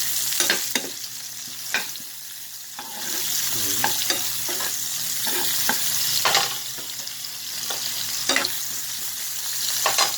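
Fish half-cooked in a frying pan, a close steady sizzle with repeated sharp scrapes and clinks of a utensil stirring and turning the pieces, no talking.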